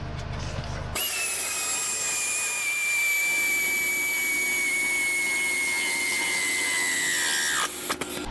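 A power tool tightens a suspension bushing bolt on a car with a steady, high whir. It runs loud and close for about seven seconds, then stops abruptly, with no talking.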